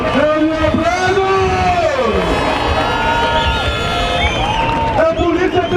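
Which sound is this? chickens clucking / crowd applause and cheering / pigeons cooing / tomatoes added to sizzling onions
crowd applause and cheering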